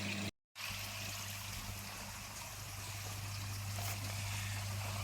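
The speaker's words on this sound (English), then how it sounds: "Now got an air stone going in this one" Air stone bubbling in a koi tank makes a continuous, close watery fizz and trickle, with a low pump hum underneath and a brief cut to silence near the start.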